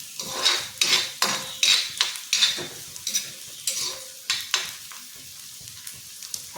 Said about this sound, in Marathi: कांदा आता आपला भाजत आलेला आहे